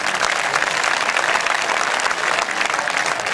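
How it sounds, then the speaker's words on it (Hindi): A college audience breaks into loud, sustained applause after a poem at a poetry and comedy event, the clapping thick and continuous throughout. "तालियां आ जाए।"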